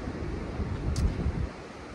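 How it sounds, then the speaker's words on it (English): Ocean waves wash along the Tenerife maritime walkway in a steady broadband roar, swelling slightly near the middle, with wind buffeting the microphone and no voices. "Just turn the camera around so you see some nice waves while you're listening to me."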